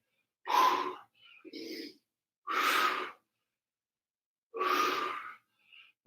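Heavy breathing during a bodyweight workout: several loud, close, forceful exhales and gasps come in a slow rhythm with quiet pauses between them, and no talking.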